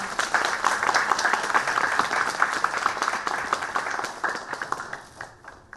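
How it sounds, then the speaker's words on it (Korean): At an award ceremony for a UCC video contest, the audience breaks into steady applause for a prize winner, sustained and full before thinning into a few scattered claps at the end. "큰 박수 부탁드립니다"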